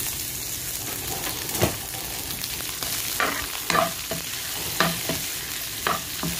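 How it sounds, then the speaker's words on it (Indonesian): Bean sprouts stir-fried in a pan with salt for a risoles filling: a continuous sizzle broken by repeated scraping strokes of a spatula against the pan, close by and without talk. "Terus togenya dimasukin."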